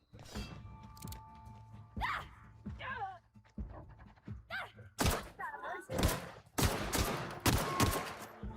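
Gunfire in the sci-fi video game The Outer Worlds: a few scattered thuds and grunts early on, then a run of sharp, loud shots in quick succession toward the end, with voices in between.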